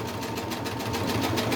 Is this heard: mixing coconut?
no